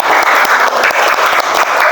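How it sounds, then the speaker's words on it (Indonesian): A classroom of students claps together in steady, loud applause that fills the room for a couple of seconds. "Tepuk tangan dong untuk Mas Maza."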